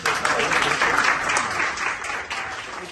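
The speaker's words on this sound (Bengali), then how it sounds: "তাদের জন্য একটা তালি" A crowd at a university anniversary ceremony breaks into steady, dense applause that fills the whole stretch, loud and close, then eases slightly toward the end.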